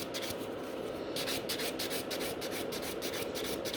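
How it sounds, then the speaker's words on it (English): A nail buffer gently rubs back and forth across a fiber gel nail, a soft, continuous, even scratching close up with fine rhythmic strokes and no voice. "So I'm just gently buffing right in the middle."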